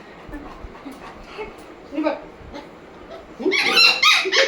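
A dog whimpers and gives high yips, with the yelps growing louder and denser toward the end while a person speaks nearby and background noise runs underneath.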